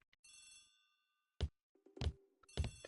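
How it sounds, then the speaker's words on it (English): Old-fashioned telephone bell rings in a hall in two or three sharp, loud bursts with short gaps between, preceded by a softer chiming tone. "The telephone in the hall is ringing."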